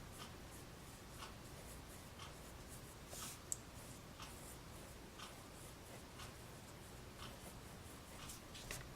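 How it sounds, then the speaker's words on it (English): Pencil drawing pupils on paper in a face sketch, faint scratchy strokes repeating irregularly, very quiet and close with no voices. "I'm gonna draw the pupils here"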